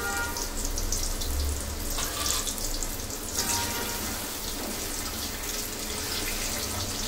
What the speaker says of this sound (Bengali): এখন নেড়ে চেড়ে আমি আলুটা সুন্দর মতন ফ্রাই করে নিব।